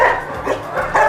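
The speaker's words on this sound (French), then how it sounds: "Les chiens." Dogs at an animal refuge let out a few close, repeated barks and yips in irregular bursts, with no one talking over them.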